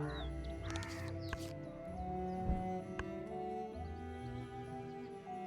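A house crow call in the Wingspan bird board video game: a few harsh caws near the start over steady background music and ambient tones.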